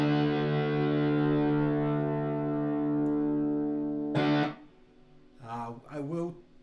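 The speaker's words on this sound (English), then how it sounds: "I'm just using this as a distortion pedal." A sustained, buzzing electric guitar chord distorted through a pedal rings for about four seconds, then a short strummed hit and a few quieter distorted notes follow.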